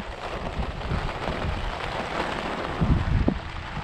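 Steady rain hisses with gusty wind noise across the microphone at a carp fishing pond, a few louder bumps and drops near the end, no voices.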